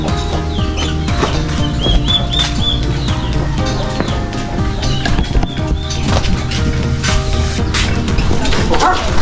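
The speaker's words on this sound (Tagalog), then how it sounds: "Ay, yung asong maliit." A small dog barks repeatedly near a chicken pen with an azolla pond, with chickens clucking and birds calling among the barks. The busy, loud farmyard din continues throughout and a voice is faintly mixed in.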